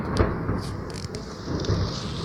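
A thunderstorm rumbles outside with rain falling: low, muffled booms and a steady wash of rainfall, moderately loud and distant-sounding, with no speech over it.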